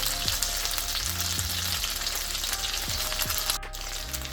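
Polenta pieces fry in a pan with a steady, even sizzle that continues throughout, with background music playing underneath.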